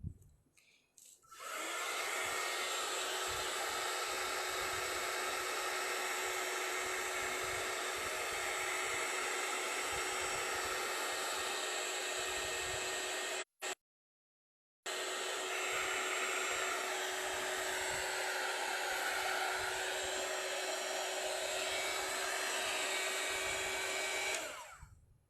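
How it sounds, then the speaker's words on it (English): Heat gun drying texture paste on a mixed-media beach canvas, a loud, steady blowing whir that runs continuously for over twenty seconds, close by, with one brief cut-off midway. "Yeah, I hope this is dried. Let me add some heat gun."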